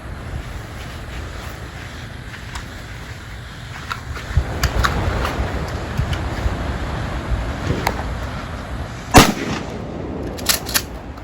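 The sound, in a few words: custom Mossberg 500 shotgun firing at 3 yards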